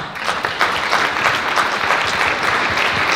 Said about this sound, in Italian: E allora qua l'applauso è triplo.